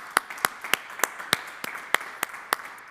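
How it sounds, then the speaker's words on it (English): Steady, evenly spaced hand claps sound out at a pitch day event for a student entrepreneurship team, a sparse round of applause rather than a dense crowd, with no voices over it. "A round of applause for Katja, Flo, as well as the rest of the Entrepreneurship Avenue team"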